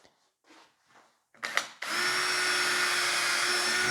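A few soft handling knocks, then a power drill with a 3mm bit spins up and bores steadily into wood for a wardrobe carcass, a close, sustained high whine that continues to the end.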